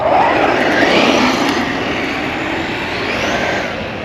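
An upgraded Traxxas Rustler 4x4 RC truck's electric motor whines loudly and steadily on a track, a continuous high-pitched buzzing drone with slight pitch shifts as it runs; no talking.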